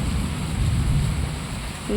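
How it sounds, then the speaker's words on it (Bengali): Heavy rain pours steadily while deep thunder rumbles low underneath, a dense continuous roar with no voices. "মেঘ ডাকছে"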